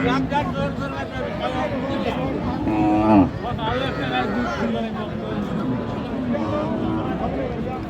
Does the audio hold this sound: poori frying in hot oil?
no